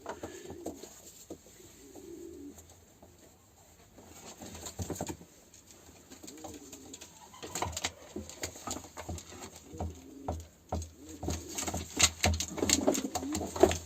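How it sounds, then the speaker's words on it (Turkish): Pigeons coo softly at a modest distance, mixed with light fluttering and pattering noises that grow busier toward the end. "Kuşların sesleri, solukları da gayet güzel."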